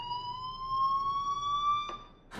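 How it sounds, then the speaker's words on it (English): A fire alarm in the video game Life Is Strange sounds as one steady, piercing electronic tone, held continuously and rising slightly in pitch, with two brief clicks near the end. "Hey, do you hear that fire alarm?"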